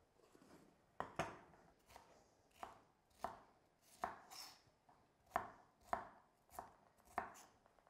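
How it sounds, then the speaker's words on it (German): Bell peppers chopped into small cubes with a knife on a board, about a dozen sharp, evenly paced strikes, close and fairly quiet, with no talk. "gleich schneiden wir die Paprikaschoten noch in kleine Würfel"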